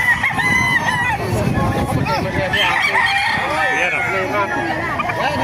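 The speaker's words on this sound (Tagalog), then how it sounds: "Papakita ko sa inyo yung mga manok dito sa Bukawi." Roosters crow repeatedly at a chicken market in Bocaue, Bulacan, with overlapping calls and clucking filling the scene while people talk throughout.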